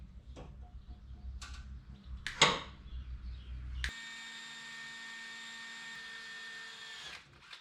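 A hole is drilled and tapped into custom car body metal: a few sharp taps and clicks, then a steady, bright drill whine holds for several seconds before stopping, close by with no talk.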